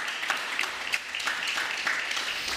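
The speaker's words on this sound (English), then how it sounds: "This is your round of applause from our audience here" Audience applause at the close of a panel session at an East Africa impact event, steady moderate clapping from a room crowd with scattered sharper claps, fairly even in level.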